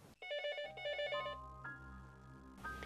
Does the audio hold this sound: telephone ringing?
yes